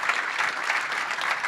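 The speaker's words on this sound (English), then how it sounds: "So round of applause to show support." An audience gives a steady round of applause to show support, a dense even wash of clapping throughout.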